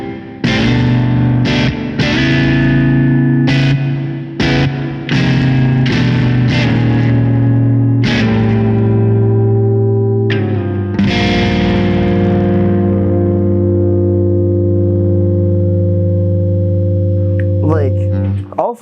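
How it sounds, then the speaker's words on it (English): Electric guitar played through a VOX Micro Superbeetle amp with drive and reverb: loud, crunchy distorted chords struck in a quick series, then held and left to ring with a wet reverb tail, no voices. "the clean tones are beautiful, the drive on it is just crunchy and perfect, and the reverb is just wet enough to slide in."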